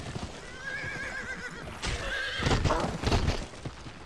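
A horse in the western video game Gun whinnies with a wavering neigh, then its hooves clop and scuffle in quick bursts, close and clear over quiet background.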